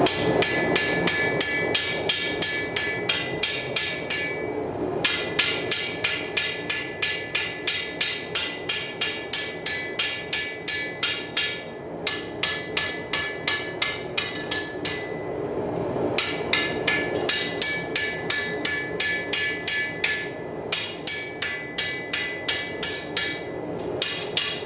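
Steady rhythmic hammer blows ring out on an anvil at a forge as hot metal ridges are worked, dozens of close, loud metallic strikes in quick regular bursts separated by brief pauses, with no talking.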